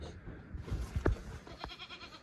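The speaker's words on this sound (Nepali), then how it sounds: "उता रहेछ खसी" Goat bleating on a farm in Dolakha, a couple of short nearby bleats over quiet outdoor background.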